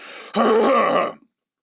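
A single throaty cough or throat-clearing bursts out close to the microphone, lasting under a second before silence.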